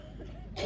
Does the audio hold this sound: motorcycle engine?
no